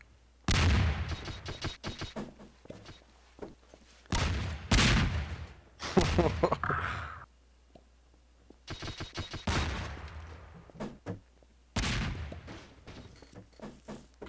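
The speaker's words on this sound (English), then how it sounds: "It's a bomb spam." Bombs exploding over and over in the video game Garry's Mod, loud bursts of blasts in clustered volleys separated by short gaps, with no voices.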